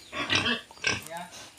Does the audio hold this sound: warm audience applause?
no